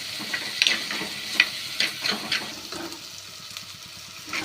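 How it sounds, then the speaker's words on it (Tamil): Tomatoes and shallots sauté in a pan, a moderate sizzle with intermittent scraping and clinking of a utensil stirring them. "தக்காளி சேர்த்து ஒரு 15 மினிட்ஸ் நல்லா வதக்கிக்கலாம்."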